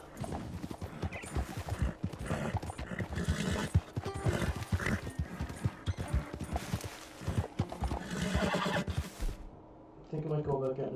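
Horse hooves clip-clop steadily in the video game Red Dead Redemption, with whinnies rising over them and background music, then a brief pause before the sounds resume.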